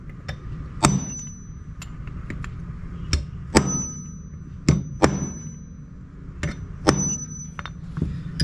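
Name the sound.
hammer and punch knocking Welch plug into carburetor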